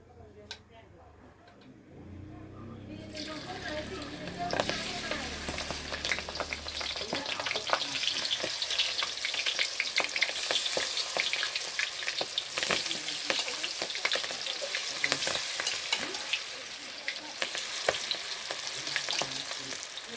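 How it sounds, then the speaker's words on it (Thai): Battered orchid flowers deep-frying in hot oil, a loud, dense sizzle that starts abruptly after a few quiet seconds and holds steady throughout. "อันเดี๋ยวเรามาทอดกันเลย"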